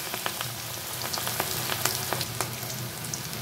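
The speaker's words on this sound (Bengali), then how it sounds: "এখন আমি দুটো করে এইভাবে ফ্রাই করে নেব" Pakoras frying two at a time in hot oil, a close, steady sizzle peppered with sharp crackles and pops, no voices.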